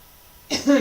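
A single harsh throat clearing burst into a rough cough from morning phlegm, sudden and close after a brief quiet moment.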